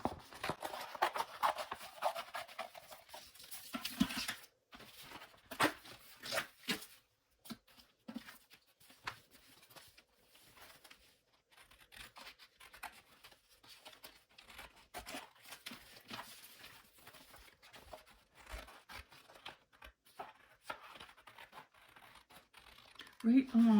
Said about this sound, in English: I'm going to cut this along the edge here.